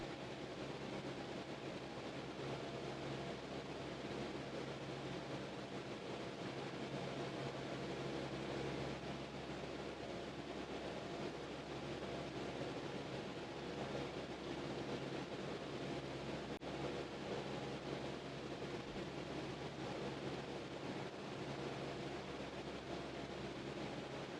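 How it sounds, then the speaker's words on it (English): Wind rushing past a plane in Microsoft Flight Simulator, a steady broadband roar that stays even and unbroken throughout, loud and continuous with no voices. "We must be flying into the wind right now."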